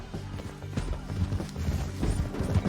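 Horse hooves clop in Red Dead Redemption 2, a rapid galloping rhythm under low rumbling game ambience, moderately quiet.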